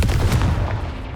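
A fiery Confringo spell blast from the Hogwarts Legacy video game: a heavy booming impact with sharp crackling bursts that fades into a low rumbling tail.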